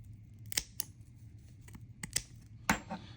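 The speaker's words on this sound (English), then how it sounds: "I'm going to go in with my smaller scissors and trim closer to where I" Small scissors snip at a 3D printed plastic fishing lure tail, several crisp separate clicks spaced irregularly against a faint steady background hum.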